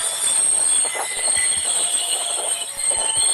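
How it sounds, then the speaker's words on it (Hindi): A train's brake air pressure is released to bring the train to a stop, making a loud, steady hiss with a high whistling tone and metallic squeal over a rumble of wagons, with a few faint knocks beneath. "ट्रेन के ड्राइवर ब्रेक शूज़ से हवा को प्रेशर को निकाल देते हैं, जिससे ट्रेन रुक जाती है, और प्रेशर निकलने से एक प्रकार की ध्वनि सुनाई देती है"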